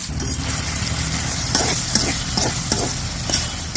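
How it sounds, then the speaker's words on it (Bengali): A spoon stirs free-range country chicken curry with stone-ground spices and ground onion in an open wok, making steady sizzling and frying with rhythmic scraping strokes, close and loud, with no voices. "খোলামেলা কড়াইতে রান্না করতেছি"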